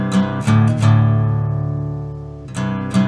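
Electric guitar strumming open and barred power chords for a song, a few sharp chord hits with one long ringing chord that decays between them, close and clear with no talking.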